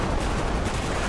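Dense, continuous gunfire from the video game Bodycam, a loud unbroken barrage of rapid shots like a machine gun or fusillade filling the whole moment with no talking.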